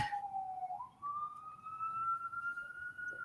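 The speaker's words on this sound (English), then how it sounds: "Oh, I like that we both have the same ambulance background." A distant ambulance siren wails in the background, a single steady rising tone that dips briefly before climbing again, faint and continuous with no talking over it.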